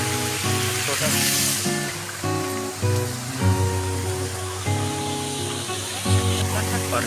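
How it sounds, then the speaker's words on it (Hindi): A small fountain waterfall in Shahid Park, Bhilai, pours water from above in a steady rushing hiss under background music and some talk. "ऊपर से पानी गिर रहा है दोस्तों। और यहाँ पे देख सकते हो छोटा सा झरना है, छोटा सा।"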